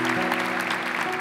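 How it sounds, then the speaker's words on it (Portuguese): Audience applause in a large religious gathering welcoming visitors from another region of the country, a dense, steady wash of clapping close to the listener, with some voices mixed in throughout. "A gente quer acolher você com uma salva de palmas"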